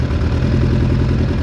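A Suzuki Bandit 600 motorcycle engine, under crash repairs, idles steadily and close by with a continuous low rumbling throb and no talk over it.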